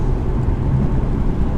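A 2017 Mercedes E220 Coupe pulling hard with the foot down through a wet corner, stability control braking the inside wheel; a continuous low engine hum and road roar holds steady throughout, with no talking.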